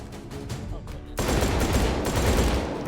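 A shotgun fires rapidly in the VR game Hot Dogs, Horseshoes & Hand Grenades, starting with a few quick blasts, then breaking into a loud, dense, sustained volley of shots.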